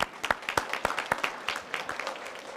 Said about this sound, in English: If we can give him a round of applause again.